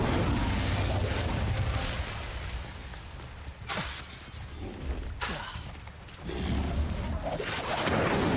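Fire spell cast in the Hogwarts Legacy video game: loud whooshing, crackling bursts with sharp breaks, a dense roar that drops briefly twice before surging back, with no talk over it.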